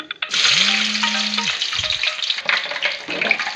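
Urad dal fries in hot oil in a pan, a loud, steady crackling sizzle that runs the whole time, with a brief tonal hum and a few clinks near the start.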